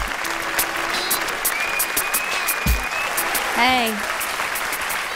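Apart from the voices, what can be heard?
audience applause for the poet Jewel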